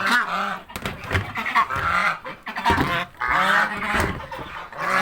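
Ducks in a pen at a turkey and poultry farm quack and honk loudly and continuously, several birds calling over one another close to the listener, with no talk.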